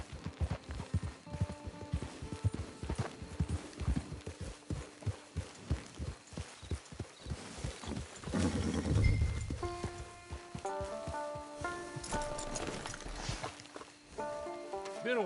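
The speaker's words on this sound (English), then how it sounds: "Get your horse." Horse hooves in the Red Dead Redemption Online video game walk in a steady, rhythmic clip-clop. Partway through, a low rumble and a short snort or whinny are heard, and tonal game music rises toward the end.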